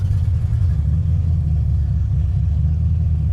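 A Ford-engined car running on E85 gives a deep, loud, continuous engine rumble while driving, steady and close with no talking over it.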